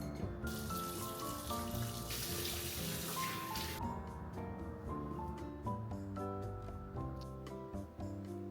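Water runs steadily from a tap during a face wash at a skin clinic in Seoul before a lifting facial, a continuous splashing flow with a louder burst partway through, over faint background sounds.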